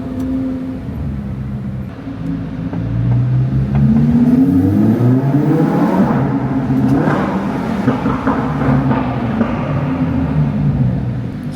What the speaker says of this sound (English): Yeah, this exhaust is Crazy.